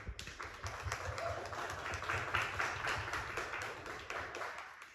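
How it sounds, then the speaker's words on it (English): A crowd claps together in a steady, dense wash of applause that holds for several seconds, with a low rumble underneath. "can we give them a round of applause, please?"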